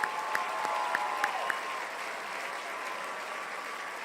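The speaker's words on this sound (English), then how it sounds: "Let's give them a big round of applause" An audience at a college hall of fame ceremony applauds in steady, continuous clapping with a few sharper claps early on, heard from a moderate distance.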